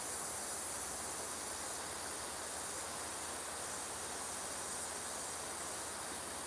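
Continuous steady hiss of air from an inexpensive airbrush fed by an old compressor, broadband and unbroken, fairly faint, with no talking over it.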